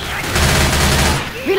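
Gunfire rattles in a Left 4 Dead 2 match on Xbox 360: a dense, close burst of rapid shots fills the moment before tapering off, with a voice line briefly heard at the end.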